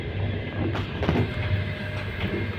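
A passenger train carriage rolls along the rails between Moscow and St Petersburg, producing a constant deep rumble and hum with faint rhythmic clatter and no talking.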